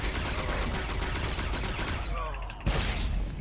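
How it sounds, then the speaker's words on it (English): Assault cannons fire in a Star Wars: The Old Republic battle inside a cave, a dense rapid stream of shots at close range, loud and continuous, with a heavy boom near the end. "it is two people with giant assault cannons fighting right next"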